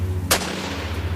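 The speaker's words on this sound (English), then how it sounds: "a flurry of panicked gunfire breaks out between the Marshals and the boys." Gunfire breaks out in a shootout between U.S. Marshals and armed boys: one sharp, close, loud shot cracks out over a low steady hum, with a fainter report following just after.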